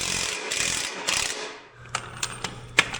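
A hand ratchet tightens bolts while installing an air compressor, a run of loud close clicking strokes giving way to sparser, sharper individual clicks and taps, no voices.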